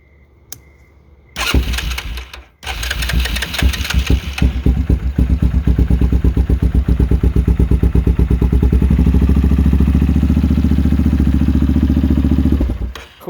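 A Yamaha Kodiak ATV, its once-seized engine now repaired, cranks, cuts out briefly, then fires and settles into a loud, steady, close-up idle with a rhythmic mechanical clatter that later revs up.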